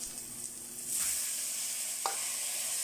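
Washed red rice for lugaw is stirred in a hot pot, with a soft scraping stir that gives way to a steady close sizzle and a single brief clank.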